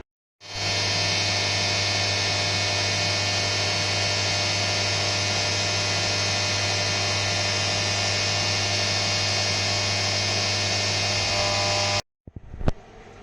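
A home-built CNC machine runs a long, slow 3D machining pass on the sides of a DIY fifth-axis trunnion, giving a steady unbroken motor and spindle drone with a constant hum, then stopping abruptly near the end.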